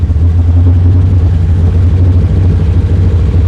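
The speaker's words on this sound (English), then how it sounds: "Revving up. Brake off. Settling back down. Brake again. Revving back up." Steady, loud engine drone from a 1972 BMW 2002 held at raised revs, a close, continuous low roar lasting a few seconds without speech.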